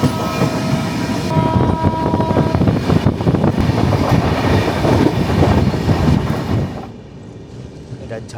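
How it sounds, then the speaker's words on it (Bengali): A passenger train leaving Sambalpur runs on rails: loud, close rumbling and rhythmic clatter from inside the coach, with a brief tonal whine early on. The noise drops off sharply near the end. "ট্রেন ছাড়লো সম্বলপুর থেকে"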